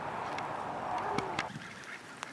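Prematurely molting farm ducks give nasal, honking calls over a steady outdoor hiss, with a few sharper cries standing out near the end.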